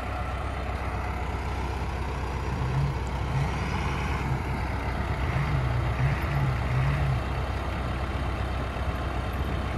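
A Case diesel tractor idles steadily after a cold start, a close, continuous low rumble with a faint periodic throb and no voices.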